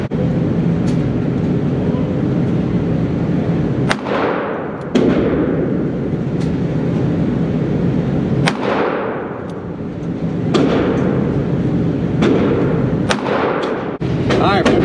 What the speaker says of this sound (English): And we'll just shoot 3 more rounds, okay?